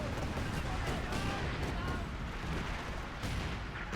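Mortar fire in the Company of Heroes 2 real-time strategy game, dense booming battle noise with repeated blasts and gunfire, continuous and loud, with a voice talking over it.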